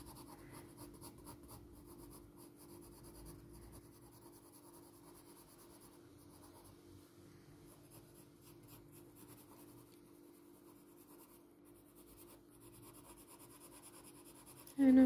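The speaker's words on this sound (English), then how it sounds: "This is just my 2H pencil." A 2H graphite pencil shades short dark fur on paper, making a steady, close, soft scratching of continuous strokes with no talking.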